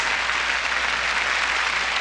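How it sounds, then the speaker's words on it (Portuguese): A church congregation applauds for Jesus during a Jimmy Swaggart service, producing a dense, even wash of clapping, heard alone at steady volume. "Uma salva de palmas para Jesus, o Rei dos Reis, o Senhor dos Senhores."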